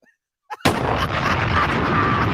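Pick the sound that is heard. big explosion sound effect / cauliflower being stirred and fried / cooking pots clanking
big explosion sound effect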